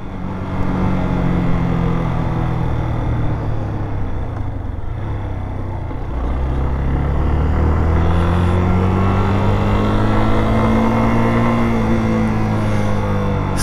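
A Yamaha Fazer 250 motorcycle rides along a road, its engine note droning steadily and loudly throughout with a rising and falling pitch as it shifts, mixed with constant wind rush.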